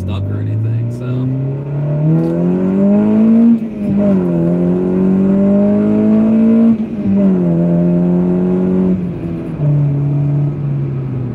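A tuned car with full bolt-on modifications and an ECU reflash accelerates hard. The loud, close engine note climbs steadily, then drops at each gear change, about three shifts in a row.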